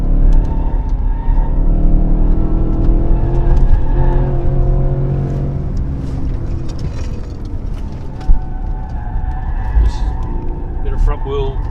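A Porsche race car's engine pulling through a corner on a circuit lap, a loud, sustained engine drone that shifts in pitch as speed changes, heard beneath someone talking over it.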